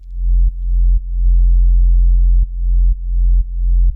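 Sidechained sub bass from a basic sine preset in Ableton Operator, a deep sustained tone that ducks and swells in a regular pumping rhythm with faint clicks at each duck.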